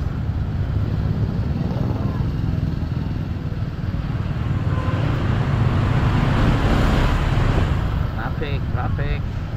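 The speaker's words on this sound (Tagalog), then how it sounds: "Traffic." Steady roadway traffic rumbles close by, with a continuous mix of passing motorcycles and cars and a few faint horn-like tones near the end, while someone talks over it.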